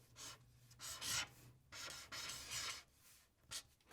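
A chisel-tip marker squeaks and rubs in short, quick strokes while a graffiti tag is drawn with the point of the tip, close and quiet, with brief pauses between strokes.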